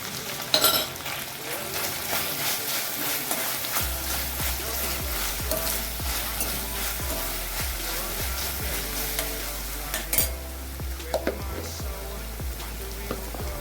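Onion paste and ginger garlic paste sizzle in a pan while being cooked for a prawns fry, a steady close frying hiss broken by repeated metal utensil scrapes and clinks against the pan.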